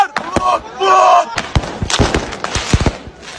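Sharp firecracker bangs crack in a rapid irregular string amid a shouting crowd in the Al-Aqsa Mosque compound, loud and close, with voices chanting "Allahu Akbar" between the blasts.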